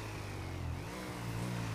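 Motorcycle engine in a GTA roleplay video game hums and revs steadily, a constant mid-pitched drone with a slight pitch shift, loud and unbroken.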